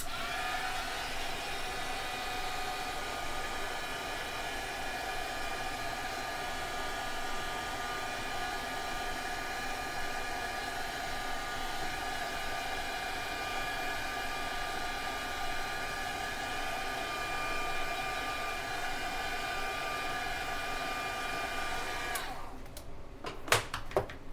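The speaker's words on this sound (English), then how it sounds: "I'm gonna dry the metals with my heat tool." A heat tool blowing steadily while drying metallic paint on a craft décor piece, a loud, even whirring hum that runs nearly nonstop before cutting off near the end, followed by a few faint handling clicks.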